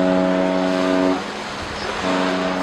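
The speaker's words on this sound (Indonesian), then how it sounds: "Pilot dari kapal tanker ini telah melakukan tugasnya dengan baik dengan membunyikan klakson berulang" A tanker ship's deep horn blasts twice at sea, a long low tone that cuts off for a moment and then sounds again over the background rumble of wind and water.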